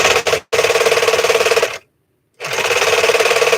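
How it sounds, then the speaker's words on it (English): A cobbler sewing machine for stitching leather runs in fast, even mechanical clatter, stopping briefly after half a second, then again for about half a second before resuming its rapid rhythmic stitching, loud and close. "But then I also have my cobbler machine, which is also good for sewing up leather."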